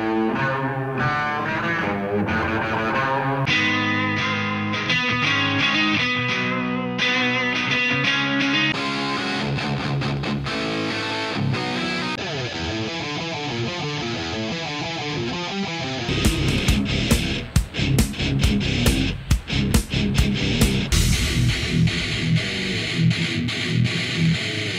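An electric guitar plays through effects that move from overdrive to distortion to fuzz, with dense sustained chords followed by sharper, choppy, heavily saturated strums near the end, loud and with no voice.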